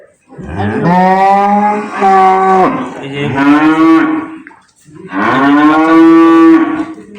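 A dairy cow moos loudly and close up on a farm, three long drawn-out lows with short pauses between them and no other sounds.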